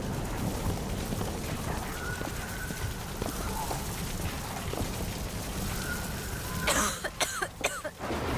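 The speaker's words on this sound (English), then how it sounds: "if you're just going to be coughing while you're in here" A character in the video game BioShock Infinite coughs a few times near the end, over a steady rumble of background noise and ambience in the game.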